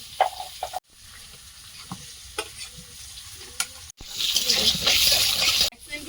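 Potatoes fry in a little oil, a close crackling sizzle with stirring scrapes and clatter, rising louder in the second half, broken by brief pauses.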